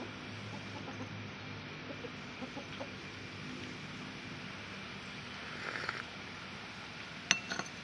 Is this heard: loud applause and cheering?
no